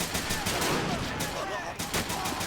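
Type 100 submachine gun fire from a Pacific war video game set during the battle on Tarawa Atoll, steady rapid bursts of suppressing fire with a few louder cracks, mid-distance and continuous.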